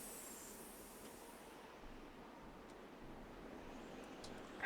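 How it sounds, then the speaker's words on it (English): Train pulling out of the station in the Nancy Drew game Last Train to Blue Moon Canyon: a faint, steady hissing rail rumble with light metallic squeals near the end. "Sounds like the train's leaving."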